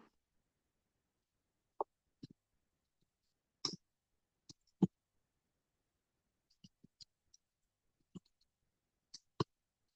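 Computer mouse clicking, a sparse series of sharp, isolated clicks at irregular intervals, some in quick pairs, close and alone against near silence.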